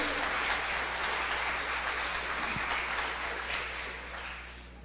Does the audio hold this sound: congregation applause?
yes